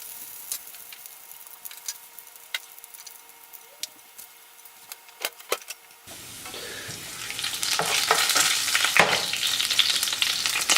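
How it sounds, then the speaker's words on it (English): Garlic frying in oil in a pan as the sizzle builds from quiet crackles to a loud, steady hiss partway through, with scattered clicks and taps beforehand. "Let that oil absorb those garlic juices for a minute."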